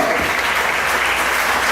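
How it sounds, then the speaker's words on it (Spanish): A church congregation gives a big round of applause to the Lord during a sermon, a loud, even wash of clapping filling the whole moment. "¿Será que usted le puede dar un aplauso grande al Señor?"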